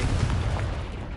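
Confringo explosive spell cast in Hogwarts Legacy, a dense, rumbling burst of blast noise that holds steady at a loud level for just over a second without a sharp onset.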